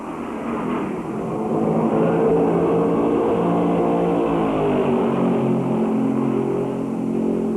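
Stock cars from the 1965 NASCAR Southern 500 roar around Darlington Raceway, a loud, continuous engine drone that swells after the first second and holds, pitch shifting slightly as cars pass.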